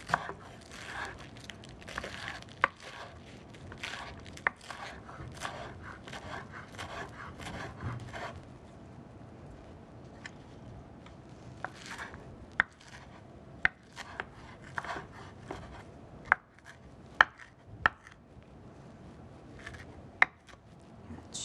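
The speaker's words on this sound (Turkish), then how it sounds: "Şimdi ıspanağı ufak ufak şöyle dilimleyeceğim." Knife chopping fresh spinach into small pieces on a board, a steady run of quiet close taps with sharper isolated cuts toward the end, no talking.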